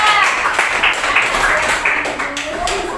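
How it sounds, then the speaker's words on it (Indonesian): Fifth-grade pupils clap for a classmate group in a science lesson, a loose, scattered patter of small hands mixed with children's chatter around the room. "beri tepuk tangan untuk kelompok 2"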